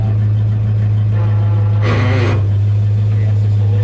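A 1932 Ford Coupe engine idles steadily in the foreground with a low, constant hum, and a brief burst of noise about halfway through.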